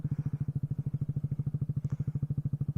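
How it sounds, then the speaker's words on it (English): A Kawasaki Z125 Pro motorcycle fitted with a Hot Bodies MGP racing exhaust idles or putters nearby with a rapid, even, loud thumping pulse that holds steady throughout, with no talking. "So the exhaust definitely makes it known that you're in the area."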